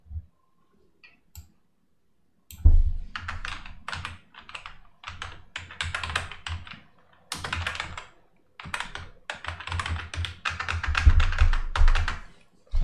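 Rapid typing on a computer keyboard, close clattering bursts of key clicks separated by short pauses, with a few isolated clicks at the start before steady typing sets in.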